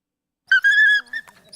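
Short dog whimper used as a sound effect: a tonal, high-pitched whine rising and holding for about half a second, then a couple of softer broken whimpers trailing off.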